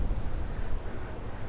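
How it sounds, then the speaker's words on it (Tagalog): Strong wind buffets the microphone on a rainy motorcycle ride between Bongabon and Baler: a brief, steady low roaring rush with no voices. "Pakalakas na hangin."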